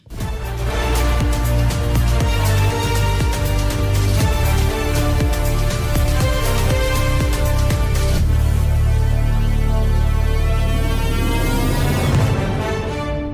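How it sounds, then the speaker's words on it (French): Loud, full orchestral music plays throughout, the Rugby World Cup players' entrance music, with pounding percussion and brass building to a sweeping, triumphant finish. "La musique d'entrée des joueurs donc pour cette Coupe du Monde"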